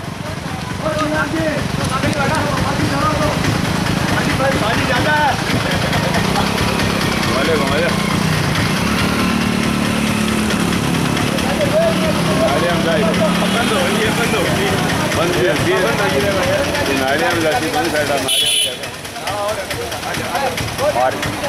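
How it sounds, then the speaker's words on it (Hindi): A motorcycle rides along a railway track after heavy rain, its engine running steadily and loudly throughout with a rough, sputtering hum, while someone talks over it almost the whole time. "रेलवे ट्रैक पर बाइक चलाना बहुत आसान नहीं होता है"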